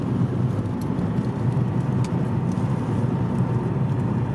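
Inside a Toyota Avensis on cruise control, the engine drones steadily with road and tyre noise, a constant moderate hum as the car gathers speed on its own.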